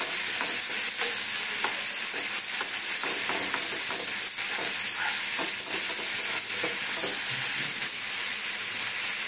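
Masala for a banana curry with hing, Kashmiri chili and tomato frying and being stirred in a pan, a steady loud sizzle with scraping stir strokes, no voices.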